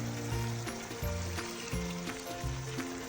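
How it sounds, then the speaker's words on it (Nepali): Water is poured into a pot of vegetable biryani, a steady close liquid pour running throughout, with a repeating tonal sound alongside. "यति चाहिँ हामीले पानी हाल्यौँ।"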